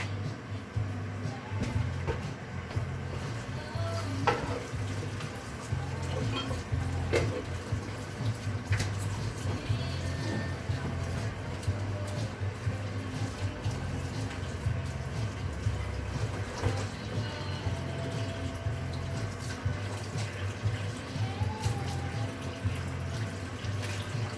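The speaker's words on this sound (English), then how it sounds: "Right, so I'm going to wash the spring greens" Tap water running steadily into a sink while spring greens are washed, a continuous close rushing with small splashes and clinks throughout, a low hum underneath.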